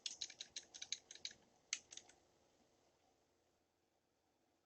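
Computer keyboard keys pressed during Photoshop editing, a quick run of close, crisp clicks followed by a few isolated taps, then quiet.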